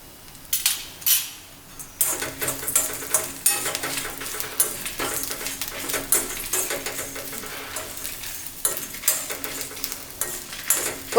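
Chana dal and spices such as coriander and pepper fry and sizzle in a pan while a spoon stirs and scrapes the metal, giving loud repeated clinks over a steady crackling hiss, with no talk.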